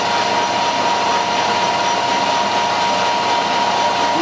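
Tough, high-quality steel bolts being machined on a lathe, with a steady, loud, unbroken cutting whine and broadband hiss throughout, close up and without talk.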